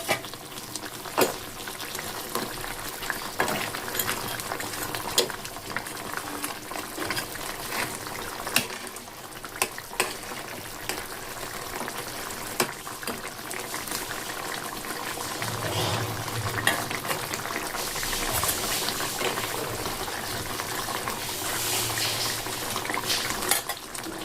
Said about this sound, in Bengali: দেখুন ঝোল খুব সুন্দর ফুটে গেছে। এখন সব মাছগুলো আমি এখানে দিয়ে দেবো।